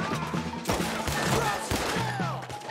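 Red Dead Redemption 2 train-heist gunfight with dense, continuous gunfire: rapid overlapping shots and bursts crackling nonstop over a low game soundtrack drone.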